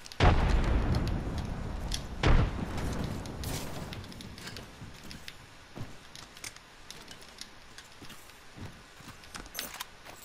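A frag grenade goes off in a video game as a loud, deep blast right at the start, followed by a second heavy boom a couple of seconds later, then scattered softer thuds and clatter fading out.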